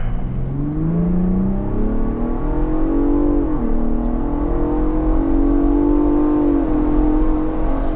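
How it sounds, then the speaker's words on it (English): A Ford Bronco Raptor's V6 engine accelerates hard from inside the vehicle, a loud, continuous rising drone with pitch climbing through the revs and a brief dip at a gear change, no voices. "I think they did the best that they can do with this V6 engine for sound."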